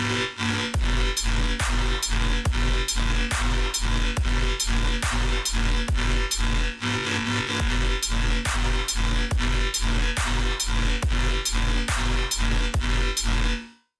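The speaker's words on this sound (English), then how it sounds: "simple drum pattern, you know, hi-hats, interchanging the kicks, basically side chaining it." A dense, loud riddim drum loop with punchy kicks, crisp claps and busy hi-hats repeating in a steady, sidechained groove, with no voices.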